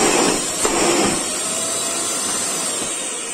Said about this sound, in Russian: При включенном пылесосе шланг вставляем в посадочные места, либо сюда, включаем пылесос и нажимаем на кнопку.